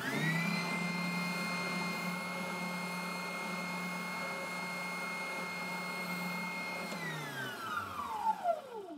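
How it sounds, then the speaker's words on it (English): An oscillating spindle sander hums with a steady, harmonically rich motor drone while smoothing circles on a Ghostbusters ecto goggles prop, then spins down with a falling whine as it switches off. "To clean up my work here, make these circles perfect, gonna use the oscillating spindle sander."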